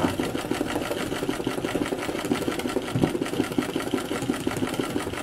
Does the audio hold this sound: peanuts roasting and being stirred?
no